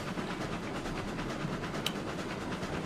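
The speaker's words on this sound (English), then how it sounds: "A lot of people are making the argument it's now the best locomotive in the game." A locomotive runs steadily in the train simulation game RailRoads Online. The mechanical rumble and rail rattle are continuous and fairly quiet, with one short bright click near the end and no talking.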